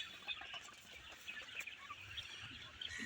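Quail kept in cages on a poultry farm call with many faint, high chirps scattered over a low steady background hum.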